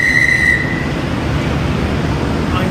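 A train at a Sydney station gives a bright wheel squeal that fades, then a steady low rumble of rolling carriages, close and fairly loud.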